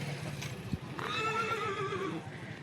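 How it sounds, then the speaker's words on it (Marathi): A farmer's horse for sale at the Yeola horse market gives one loud, shaky whinny close by, over a low background murmur, with no talk. "घोडा छान आहे, शेतकऱ्याचा घोडा आहे."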